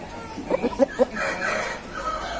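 A rooster squawks in pain while being handled for a festering, foul-smelling wound at an Aseel farm, giving a burst of several sharp, close cackling cries followed by a brief rougher call.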